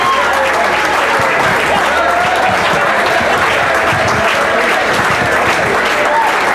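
A crowd at an athletic hall of fame induction breaks into loud, dense applause for an award winner coming up to accept, the clapping continuous and even throughout.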